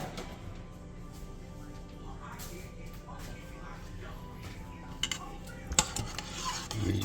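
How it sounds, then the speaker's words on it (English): Cream cheese being stirred into keto chicken chowder in an Instant Pot, a steady close clatter and scrape of a utensil against the metal pot under a low background hum, with a few sharper knocks near the end. "You're just gonna give it a good stir."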